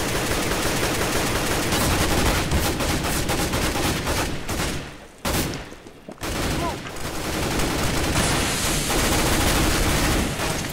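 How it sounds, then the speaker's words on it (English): Dense, loud gunfire from CS:GO rattles almost continuously as rapid automatic bursts, with a brief lull in the middle before the shooting resumes at full intensity. "I think I hit some shots there for that guy."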